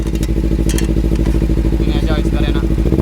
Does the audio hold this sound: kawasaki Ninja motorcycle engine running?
yes